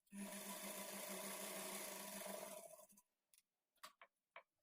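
A sewing machine top-stitches a blouse lining in one continuous, even run for nearly three seconds, then stops, followed by a few scattered clicks and taps.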